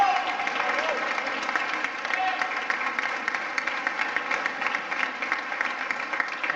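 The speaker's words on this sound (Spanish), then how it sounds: "Él es Juan, Juan Malo, un aplauso para él." An audience at a winter concert applauds the band's narrator with sustained, dense clapping that carries evenly throughout, a few voices mixed in.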